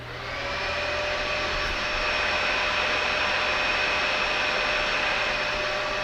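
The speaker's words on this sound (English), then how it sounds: "let's turn on a household vacuum to establish a baseline" A household vacuum cleaner runs steadily after a quick start-up, a loud continuous whine with a broadband rushing roar and no voices over it.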